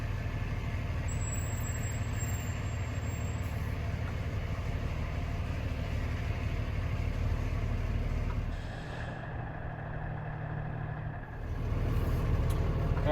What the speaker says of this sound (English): it's our new tactical tender engine down here in Brennan